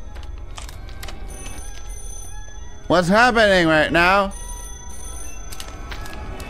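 A phone rings loudly in a video game with repeated electronic bell trills, under a person talking excitedly over quiet game ambience.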